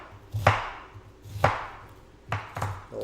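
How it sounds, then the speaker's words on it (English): A knife dices food on a cutting board in four sharp, close chops spaced irregularly, each a crisp thud of the blade striking the board, with quiet between them. "just dicing it up"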